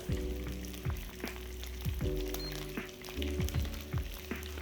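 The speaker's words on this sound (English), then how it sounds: "It's almost too big for the frying pan, this fish" A large sea bass fries skin-side down in a frying pan, giving a steady close sizzle with a low humming tone and recurring soft pulses underneath.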